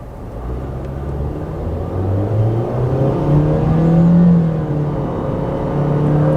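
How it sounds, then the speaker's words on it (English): A Nissan Versa's small engine hums and slowly revs up as it pulls away from a stoplight at part throttle, its pitch gradually rising under a steady road rumble. "We're going to accelerate. Let me show you what it feels and sounds like."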